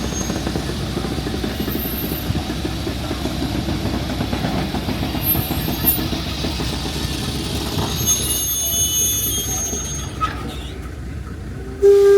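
A Kauaʻi Plantation Railway train rumbles steadily into a station in Hawaii with a low, continuous roar and rail noise, a few high squeals near the end.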